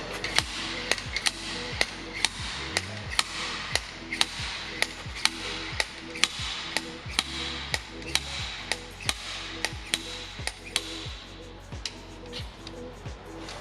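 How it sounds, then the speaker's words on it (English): Repeated sharp metallic clacks of a slide hammer pulling a pilot bearing from a BMW 323i E46, roughly one per half second, close and steady, with a pause midway. "Now all you have to do is use this slide hammer."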